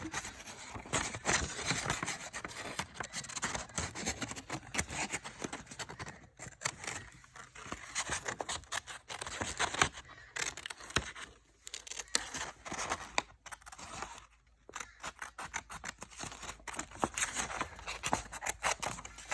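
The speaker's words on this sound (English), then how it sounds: "we're going to take our scissors and we are going to cut out this design" Scissors snip through a stiff cardboard toilet paper roll in a long run of rapid crunching cuts, with rustling and brief pauses as the piece is turned.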